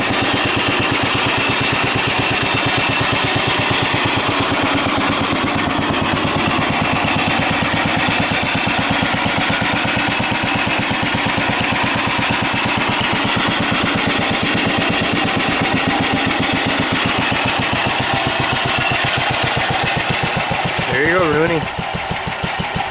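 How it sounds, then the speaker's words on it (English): An old tractor engine chugs loudly and steadily at close range with a rhythmic knocking beat throughout, and a short voice is heard near the end. "how good this tractor ran, so see if she'll fire over"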